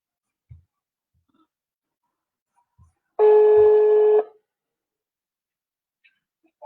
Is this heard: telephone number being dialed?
yes